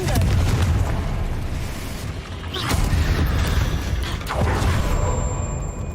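Confringo fire spell blasts in Hogwarts Legacy go off in a dense rumbling series of booms and bursts, loud and continuous with short swells.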